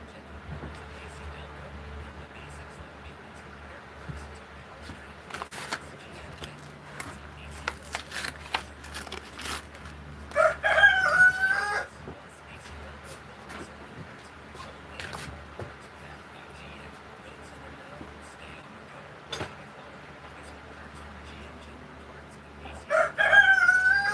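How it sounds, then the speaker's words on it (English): Rooster crowing twice, a loud, strained cock-a-doodle-doo about midway and another at the very end, over a quiet indoor background with occasional clicks and faint shuffling. "And the rooster likes to interrupt."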